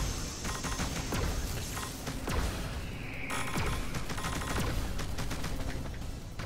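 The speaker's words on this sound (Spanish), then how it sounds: "Muchos disparos." Dense gunfire from the Panzer Dragoon Remake video game, a steady barrage of rapid shots and bursts running continuously at high level without talk.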